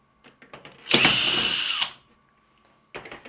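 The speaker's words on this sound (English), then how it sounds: "Take the screws off." A power drill whirs for about a second, backing screws out of the rear panel of a Beko 19LL250M TV, close and loud between a few small clicks and handling knocks.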